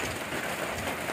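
Rain falls on a farm field being prepared with a tractor harrow, a dense, even hiss of drops on the ground and surfaces, steady and close throughout the short stretch, with no talk.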